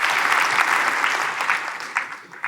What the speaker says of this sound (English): let's do a little round of applause there for that